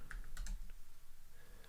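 A few quiet keystrokes tap on a computer keyboard, brief and faint.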